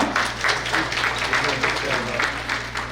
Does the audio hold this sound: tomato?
no